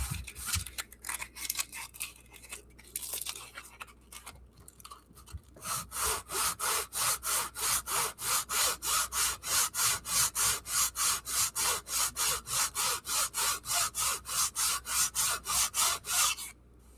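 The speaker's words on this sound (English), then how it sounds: "Do a light sand." A layout surface gets a light hand sanding, beginning with a few irregular scrapes and then settling into a long run of steady, rhythmic back-and-forth rasping strokes, close up and with no talk.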